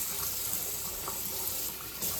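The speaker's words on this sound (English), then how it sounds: "Now I give it a hot soapy wash." Running tap water pours steadily into a kitchen sink as a glass canning jar is washed under it, a continuous close splashing hiss with small shifts as the jar moves in the stream.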